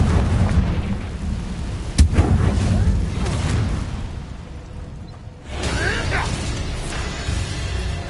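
A Confringo blasting curse explodes in the Hogwarts Legacy video game: a sharp boom leads into a dense, roaring rumble with whooshing debris, loud and continuous throughout, and swells again near the end.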